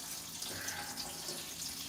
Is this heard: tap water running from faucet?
yes